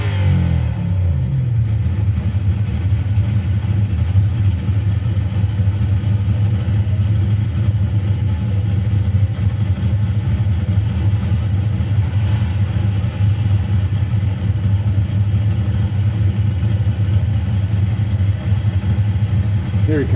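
Next Gen stock cars circulate behind the pace car at the Monster Mile, giving a steady, loud, low engine drone that holds evenly with no single car passing.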